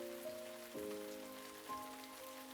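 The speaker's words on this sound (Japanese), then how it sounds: "The day quickly becomes a downpour, and we all end up drenched." Rain downpour in a visual novel game, a steady soft wash of rainfall under sustained musical tones, faint and even throughout with no talking.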